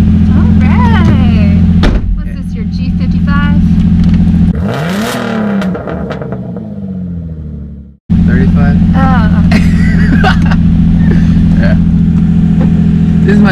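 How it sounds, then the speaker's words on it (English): An Infiniti G35 with a muffler delete revs and accelerates loudly up close, a deep droning exhaust with a rising sweep, a sudden cut-off and then a return to the heavy rumble, with people talking over it. "We're gonna review the exhaust. Muffler Delete."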